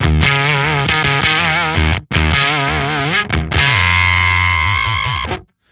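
A loud, heavily distorted electric guitar through a Walrus Kangra filter/fuzz pedal, driving the front of an amp's clean channel, plays fuzzy sustained chords and notes, briefly cutting out twice before a long held chord fades away.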